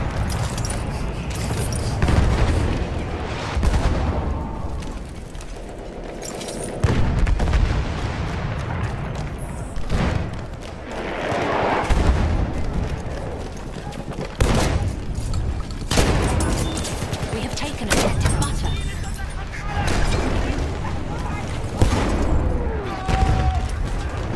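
Grenade blasts and rapid gunfire in a Battlefield 1 match, heavy booms and volleys rolling one after another throughout, loud and dense with little pause.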